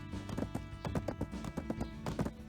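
Horse hooves clip-clop in a steady rhythmic gait while auto-running in the game Black Desert Online, the hoofbeats close and clear over a low sustained musical drone.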